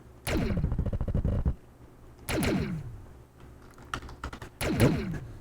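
Sharp bursts of clicks from a computer keyboard, typed in three separate clusters with short pauses between them. The clicks are close and crisp, and no one talks.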